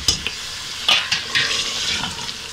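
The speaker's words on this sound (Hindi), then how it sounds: "अब हम इसमें गोभी डालते हैं।" Cauliflower tipped into a pot of tender cooked mutton, with wet clattering pieces, stirring scrapes and a frying sizzle in a few bursts, close and fairly loud with no talking.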